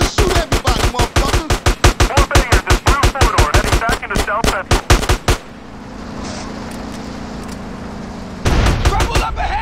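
Rapid bursts of gunfire in the video game GTA San Andreas ring out loud and close, a dense string of shots followed by a lull and then more firing, with voices calling out in between.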